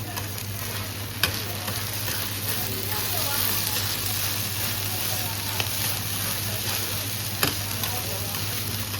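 Oyster omelette fries on a hot griddle at a Chinese street food stall, a steady loud sizzle running throughout with a few sharp spatula scrapes and taps, continuous sputtering and a low hum beneath.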